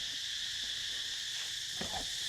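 Cicadas buzz outdoors on a hot day in Cambodia, a steady, dense high-pitched drone that stays level throughout, with a faint low bump near the end.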